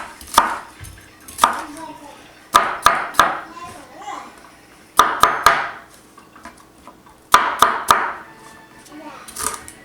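A knife chops vegetables for a kielbasa stew into medium pieces on a cutting board, crisp thuds in uneven clusters of strikes, close up, with someone talking softly between and over the cuts.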